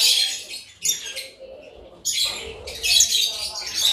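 African lovebirds kept in cages chirp and squawk in loud, bursting calls, with a pause around the middle before a denser stretch of chatter and someone speaking faintly underneath.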